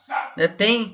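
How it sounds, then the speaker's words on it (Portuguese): A dog barks from the next room in three short, fairly loud bursts under someone speaking Portuguese. "se você estiver ouvindo um cachorro latindo aí, não repara não."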